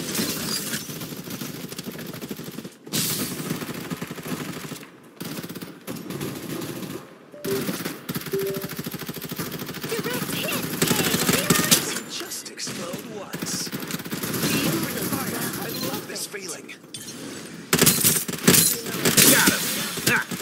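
Rapid automatic gunfire and heavy shooting in the video game Farlight 84, sustained bursts crackling loudly almost throughout with brief gaps, layered with in-game effects.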